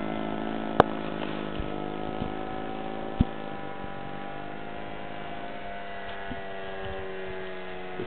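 A Hangar 9 Fokker D7 radio-controlled model biplane flies at an airfield, its small engine making a steady, droning buzz that shifts slightly in pitch and is broken by a couple of sharp clicks.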